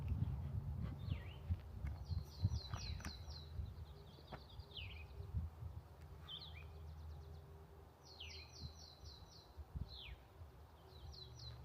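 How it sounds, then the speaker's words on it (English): Small birds chirp and trill repeatedly, faint and somewhat distant, over a steady outdoor background rumble. "find out what these birds are"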